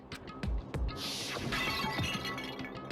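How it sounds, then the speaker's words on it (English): A glass bottle smashes in the Danganronpa video game, a loud crash followed by a bright, glittering scatter of shards that rings on for a couple of seconds over a busy background. "I grabbed the Monokuma bottle from the shelf and smashed it across her head."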